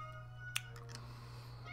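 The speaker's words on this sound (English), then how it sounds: "That's my cat, Snowball." A faint, short meow from a cat nearby, heard once over a steady electrical hum in an otherwise quiet room.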